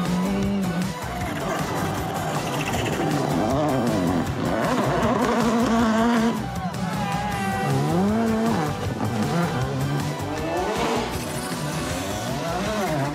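Rally race cars at the Rallye Antibes Côte d'Azur 2019 speed through a fast left chicane, engines roaring loudly with rising and falling revs, possible tire squeal, under a spectator commentary voice talking over them.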